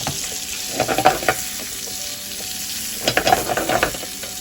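Squid dropped into melted butter and oil in a hot pan, sizzling steadily with bursts of louder crackle and stirring clatter, close up and with no talking.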